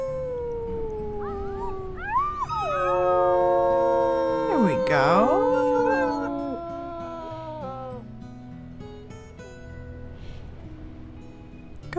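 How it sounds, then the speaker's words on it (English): Several wolves in the video game Wildfire Pack howl together, long overlapping wavering tones rising and falling in a layered chorus, with a sharp swooping dip midway, and a brief spoken remark near the end. "Go ahead and do our howl for the day."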